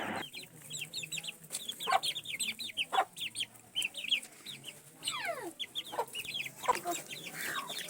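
A hen clucks softly among her chicks in a village near Mansehra, with repeated high peeping from the chicks and occasional sharper calls over a quiet outdoor background.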